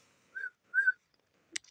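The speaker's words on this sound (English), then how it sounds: "so I can whistle, go like that" A person whistles two short, clear notes, the second longer and stronger, followed by a brief click or breath noise in a quiet room.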